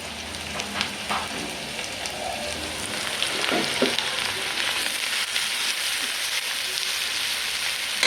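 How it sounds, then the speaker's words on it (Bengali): Tilapia pieces fry crisply in hot oil, a loud, dense, unbroken sizzle crackling throughout, with a few faint knocks from the pan. "কত সুন্দর করে মাছগুলো আমি ভাজি। দেখেন মশমশা করে"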